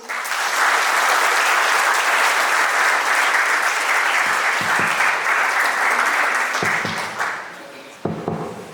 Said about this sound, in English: let's all welcome Professor Lenin with a huge round of applause